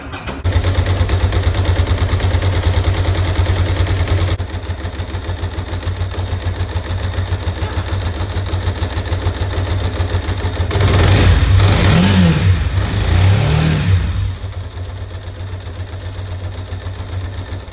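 A Ducati Monster 900 motorcycle engine runs with its entire exhaust system removed, a loud, close, raw pulsing idle that rises into several sharp revs before settling back.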